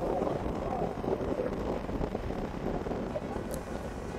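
Strong wind gusts during a violent storm in the Netherlands, a dense, continuous roar of buffeting wind noise, loud and steady, with faint background sounds mixed in.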